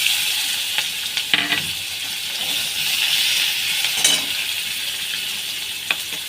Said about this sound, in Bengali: পেঁয়াজ কুচিটা একটু লবণ দিয়ে ভাজা করব।